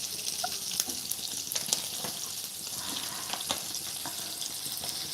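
Steady, soft sizzling of fish frying in hot oil on a griddle, with scattered small crackles and pops throughout.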